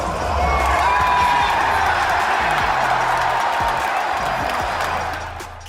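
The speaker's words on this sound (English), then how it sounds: "whenever he died, the entire crowd would erupt" A stadium crowd at the Fortnite World Cup roars in a dense, sustained wall of cheering that stays loud throughout and eases slightly at the very end.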